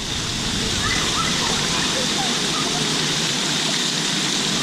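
Water sprays steadily from a fish-shaped water gun at a water park, a continuous close hiss and rush of water without a break, with no talk over it.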